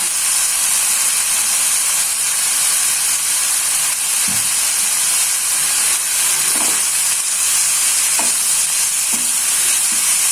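Food is stir-fried in a non-stick pan with a little oil, sugar, seasoning and sweet soy sauce, giving a constant loud sizzling hiss. Occasional soft scrapes and taps of the spatula sound over it, with no talking.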